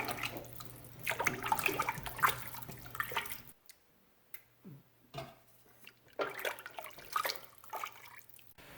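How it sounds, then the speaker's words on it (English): Distilled water with lemon essential oil poured into a pot of lentil soup: a steady splashing stream runs for a few seconds, stops briefly, then resumes in another close, moderately loud pour. "now I'm going to add some more water to this"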